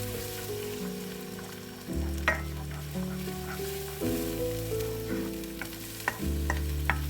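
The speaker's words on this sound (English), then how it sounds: "Cook until scrambled," Eggs sizzling as they scramble in a frying pan, stirred with occasional soft scrapes over a steady low hum, with no voices.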